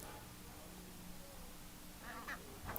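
Ducks or geese on a farm give a few short quacks and honks near the end, after a stretch of quiet background murmur.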